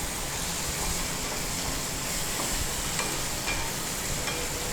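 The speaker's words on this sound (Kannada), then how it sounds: "ಇದೆಲ್ಲ ಮಸಾಲ ರೆಡಿ ಆದ ತಕ್ಷಣ ಪ್ರಾನ್ಸ್ ಹಾಕಿ ಬಿಡ್ಲಿಕ್ಕೆ" Prawns fry in a chilli masala, with a dense, continuous sizzle and crackle at an even, fairly loud level for several seconds, without speech.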